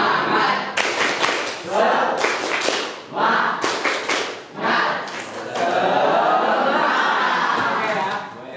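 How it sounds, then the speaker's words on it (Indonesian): Classroom of students at a Bandung senior high school doing a rhythmic spirit clap, sharp loud bursts of patterned clapping in quick groups, then a sustained burst of applause and chatter, with voices calling along. "kalian akan memulai tepuk semangat"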